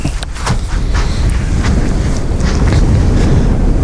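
Wind gusts across an open hilly disc golf course in Germany's Allgäu region, a steady loud rushing buffet against the microphone with no speech.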